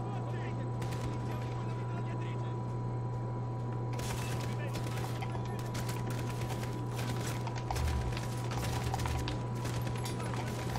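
Call of Duty: Modern Warfare gunshots crackle in quick bursts over a steady engine-like hum, the shooting dense and sustained, with talking mixed in.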